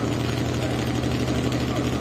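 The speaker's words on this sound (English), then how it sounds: "Macy Tiscadden with her Smoke Show tractor" A pulling tractor's engine idles at a truck and tractor pull, a steady low rumbling drone with constant vibration and no clear revs over the short stretch.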